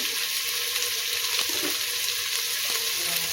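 Green chillies sauté in a hot pan for paneer pulao, giving a steady close sizzle with a few faint stirring clicks and no voices.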